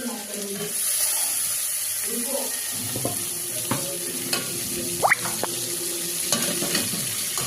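Onion and tomato sauté in a pan for egg biryani, stirred with scraping strokes over a steady sizzle, close by, with some faint water-like background noise.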